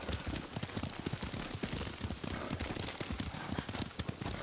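Horse hooves clip-clopping at a steady quick rhythm while riding in the video game Ghost of Tsushima, loud and close over a continuous rain-like hiss.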